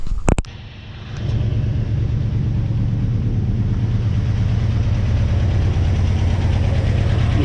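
A rebuilt Porsche 356SC engine cranks with a few sharp bursts, then catches and settles into a steady, loud idle that runs unbroken to the end, close by.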